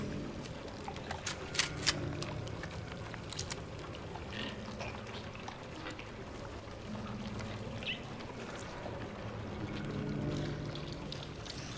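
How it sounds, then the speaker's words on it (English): Water pours and trickles steadily in Silent Hill 2 Remake, a faint, continuous wash with no voices over it. "Is that water I hear or one of those things?"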